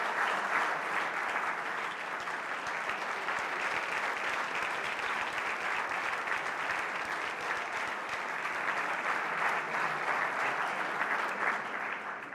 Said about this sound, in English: please stand and give them a big round of applause for being here tonight with us